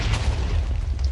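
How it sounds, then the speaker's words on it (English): A single deep, booming blast as a boss creeper explodes in Minecraft, short and loud with a rumbling low end. "And she should explode and drop a key."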